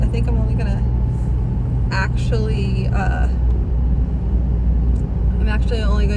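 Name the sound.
car driving, heard from inside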